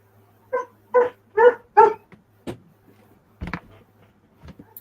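A dog barks four times in quick succession close by, followed by a few softer, scattered yips and whimpers against a quiet background.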